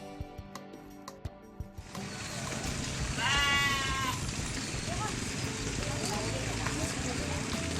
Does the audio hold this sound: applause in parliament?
no